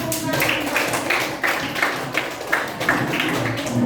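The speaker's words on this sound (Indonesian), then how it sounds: "tepuk tangan." A classroom of students claps hands together in a steady, repeated rhythm, moderately loud with the room's ambience behind it.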